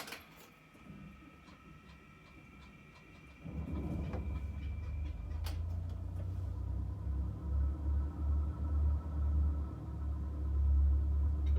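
A light aircraft engine starts up in the X-Plane 12 home-built flight simulator: quiet cockpit clicks, then a sudden low rumble catches near four seconds and settles into a steady, growing engine drone.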